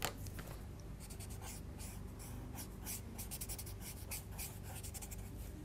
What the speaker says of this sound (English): What we can do is clean it on the sandpaper block.